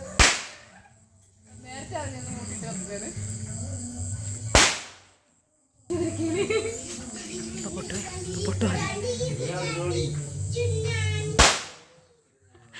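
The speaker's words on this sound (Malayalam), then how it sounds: "അങ്ങനെ പടക്കം പൊട്ടിക്കൽ കഴിഞ്ഞിട്ട്" Firecrackers burst outdoors during a Vishu celebration: two sharp, loud cracks stand out sharply, with children and adults talking and calling out between them.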